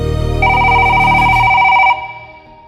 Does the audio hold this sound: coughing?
no